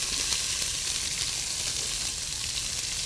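Chopped, finely diced onions, about a cup and a half, sizzle steadily in a hot pan, a close, continuous crackling hiss with no one talking.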